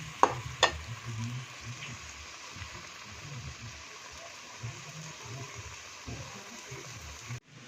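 Aloo matar curry with eggs being gently stirred and cooked in a pan: a soft, steady sizzle with a few sharp scrapes of a spoon near the start, then low bubbling and stirring noises throughout, no talking.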